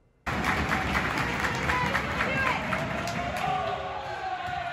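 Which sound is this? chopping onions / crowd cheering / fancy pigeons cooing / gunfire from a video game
crowd cheering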